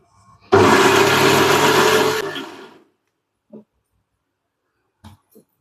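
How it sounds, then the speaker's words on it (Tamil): A mixer grinder whirs loudly while grinding spices and garlic with water for a tamarind yam curry, running for about two seconds before winding down, followed by a few faint kitchen knocks. "தண்ணி விட்டு அரைச்சிக்கலாம்."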